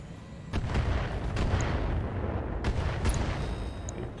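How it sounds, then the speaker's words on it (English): Mortar volleys in the mech combat game BattleTech: several heavy, rumbling booms strike in a loose sequence over a constant low battlefield roar, with no talk. "Again, mortars."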